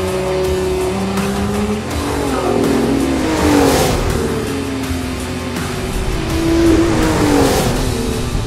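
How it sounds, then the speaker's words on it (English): A Lotus Emira sports car revs hard on a track, the engine note rising and falling through loud, sustained acceleration with brief dips between pulls, with faint tire squeal in places. "This engine just roars."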